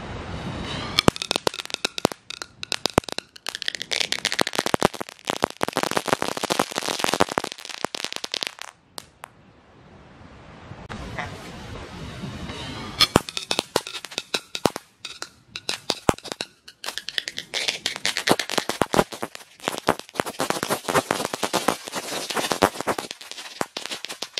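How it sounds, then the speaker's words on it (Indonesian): Rapid bursts of about twenty firecrackers exploding inside a small bottle, popping and crackling loudly with a hollow, confined ring, a brief quieter lull midway, then another dense run of sharp bangs. "Botol yang kecil dengan 20 mercon kretekan. Kita nyalakan."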